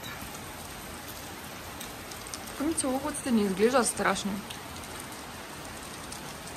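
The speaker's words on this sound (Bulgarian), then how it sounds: "Вали." Rain falls steadily in the mountains, a constant wash of drops close around, while a person speaks briefly over it.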